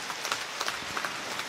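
Dense applause from a crowd at an outdoor public event in Araria, Bihar, welcoming the Chief Minister, with fast overlapping claps forming a steady, moderately loud patter throughout and no voices.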